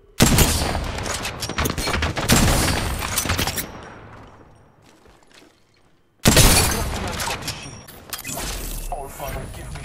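Apex Legends gunfire: rapid, loud bursts of automatic weapon shots with sharp cracks, dying away into a quiet gap before another intense volley erupts.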